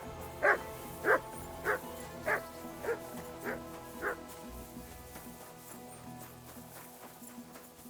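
A dog in the medieval video game Kingdom Come: Deliverance II barks seven times in an even, steady rhythm, moderately distant, then falls quiet over low ambient background with no talking.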